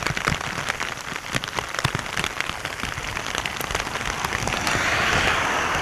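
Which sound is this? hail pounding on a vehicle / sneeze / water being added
hail pounding on a vehicle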